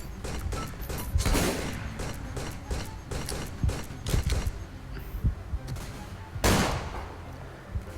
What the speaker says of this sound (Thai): ปืนลั่น ปืนลั่น